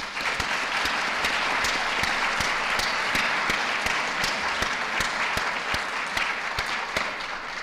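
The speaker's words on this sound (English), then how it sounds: "giving a big round of applause for our speaker and our three panel members" An audience applauds a lecture speaker and panel, steady overlapping clapping from a roomful of people that holds at an even level throughout, with no voices over it.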